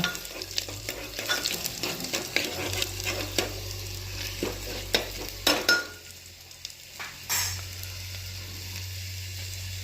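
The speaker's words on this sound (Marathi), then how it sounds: "लसण टाकून हलून घ्या" Garlic fries in a pan for soybean chunk khichdi while being stirred, with a soft sizzle under frequent sharp spoon scrapes and clicks against the pan, close and without talk.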